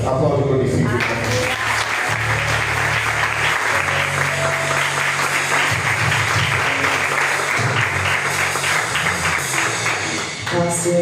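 A church congregation applauds throughout a worship service, steady dense clapping with a band playing underneath and voices shouting over it.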